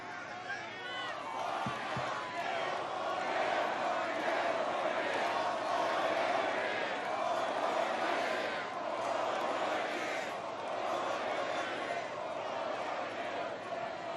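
Large crowd cheering and roaring at a Trump campaign rally in New Hampshire, a loud, sustained wall of voices that swells and dips without a break, with a faint thump near the start.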